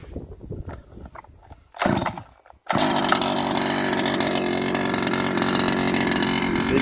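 Reely Carbon Fighter 3 RC car with its small combustion engine, a few uneven sputters and revs, then a loud, steady buzzing idle close by, with no talking.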